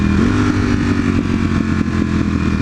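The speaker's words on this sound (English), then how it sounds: "We're breaking the engine in" A V4 motorcycle engine being broken in, running loud and close with a steady throbbing drone and slight rises in revs, no voices over it.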